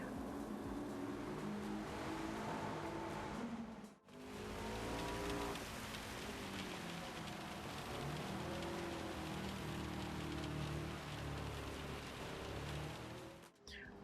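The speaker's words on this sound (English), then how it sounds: "GT7 also features dynamic weather, and rain can descend upon you at any time." Steady rainfall hiss in the racing game Gran Turismo 7, running continuously under a musical soundtrack with a brief cut near four seconds.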